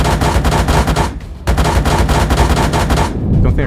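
Tank cannon and machine-gun fire in the PC game Gunner HEAT, aimed at an M109, a loud close string of rapid sharp bursts with brief pauses between volleys.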